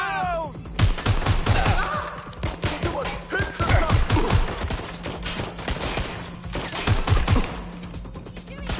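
Dense bursts of rapid gunfire and automatic weapon fire crackle repeatedly in the video game Watch Dogs Legion, loud and close, in clustered volleys with short gaps over a low, steady background hum.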